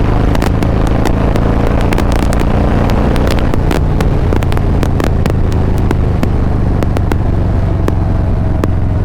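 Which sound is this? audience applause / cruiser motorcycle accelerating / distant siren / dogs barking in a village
cruiser motorcycle accelerating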